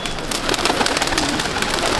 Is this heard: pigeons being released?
yes